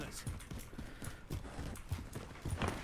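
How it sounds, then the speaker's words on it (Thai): Rapid footsteps in the Call of Duty video game, a quick uneven run of light thudding steps close by, heard alone without talk. "ผมได้ยินเสียงเท้าแล้ว"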